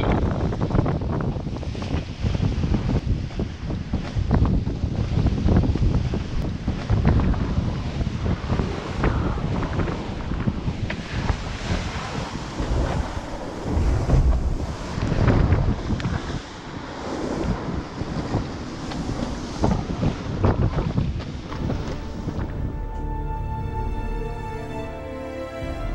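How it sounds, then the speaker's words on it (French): Strong wind buffets a Dick Newick Echo 36 sailing trimaran at sea in about 25 knots, a loud, constant roar with rushing water beneath and no voices. "On a pris un petit peu de vent là."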